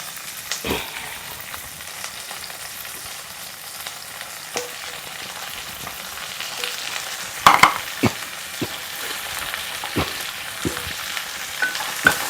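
Pumpkin pieces dropped into a hot tempering and stirred for pumpkin curry: a continuous sizzle broken by sharp spoon-against-pan scrapes and clacks, louder bursts around the middle.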